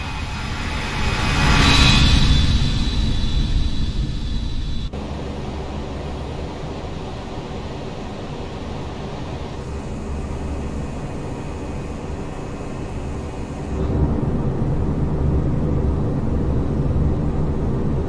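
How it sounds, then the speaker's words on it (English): A ToLiss A319 airliner in the X-Plane flight simulator makes a loud close flyby, engine roar swelling to a peak early then dropping abruptly to a steady, duller drone with faint hiss, rising again near the end. "Want to do another quick flyby? Watch your ears."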